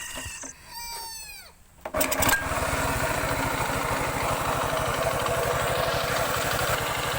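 A rooster-like chirp is followed by a motorcycle engine, with a smoking breather hose, sputtering to life and running steadily with a fast, even putter, close by.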